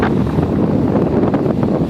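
Steady wind over a bay buffets the microphone in a dense, low rumbling roar that continues without a break.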